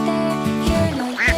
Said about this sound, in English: The duck says quack.